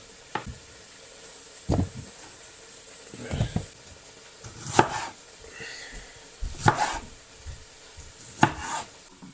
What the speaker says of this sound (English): So I'm chopping a load of tomatoes, so I've got a big bowl.